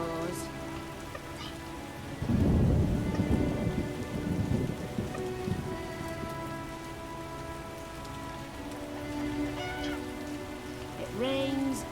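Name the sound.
rain and thunderstorm in the video game The Witcher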